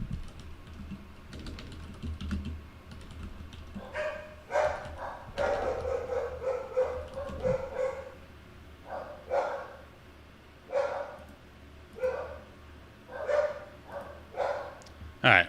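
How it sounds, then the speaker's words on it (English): Several pet dogs bark in sharp, repeated bursts somewhat in the background, mixed with keyboard typing and occasional talk indoors. "I gotta get my dogs to stop going crazy"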